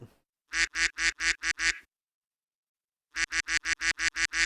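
A cartoon duck quack effect repeats in two quick bursts, six or seven loud, evenly spaced quacks each, with a pause of silence between the groups.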